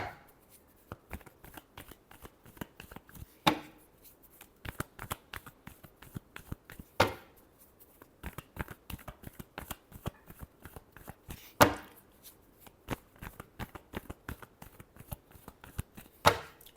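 Tarot cards shuffled by hand, a steady run of crisp riffling slaps and flutters with louder bursts every few seconds, close and alone.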